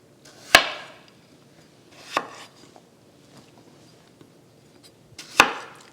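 Three separate knife chops through potatoes on a cutting board, spaced irregularly and fairly close, with quiet kitchen stillness between them.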